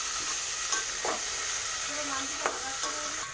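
Green chilies and tomatoes frying in a pan while being stirred, a constant close sizzle with a few sharp scraping clicks of the spoon.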